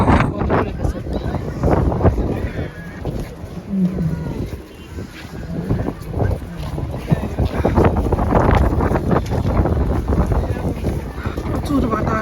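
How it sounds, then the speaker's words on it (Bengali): Strong, cold wind buffets the microphone outdoors during December 31 celebrations in Russia, a constant loud rumbling roar with gusty swells throughout. Someone talks over it. "বাতাস অনেক ভয়ঙ্কর, বাতাসে প্রচুর ঠান্ডা, হাত বরফ হয়ে যাচ্ছে"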